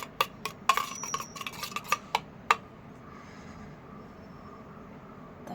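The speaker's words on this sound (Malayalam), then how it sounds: "ഒരു സ്പൂൺ തൈര് ഒരു സ്പൂൺ പപ്പായ ഇത്രയും മതി കേട്ടോ ഇത് നല്ലവണ്ണം ഒന്ന് ഇതാ മിക്സ് ചെയ്യാവേ" A spoon clinks and scrapes in a bowl as yogurt and papaya are mixed, a burst of quick, close metallic taps that fades to quiet stirring.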